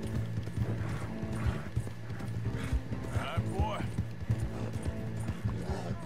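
Horses clip-clopping at speed in the video game Red Dead Redemption 2, with a brief whinny, under excited talk from players.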